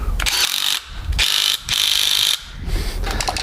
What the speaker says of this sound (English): grab it again, impact gun